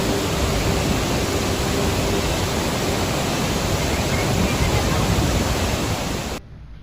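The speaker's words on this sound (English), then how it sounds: "This beautiful, humongous, private waterfall" A large private waterfall at the Ayatana Coorg resort roars as a broad, steady rush of falling water, loud and unbroken until it cuts off abruptly at the end.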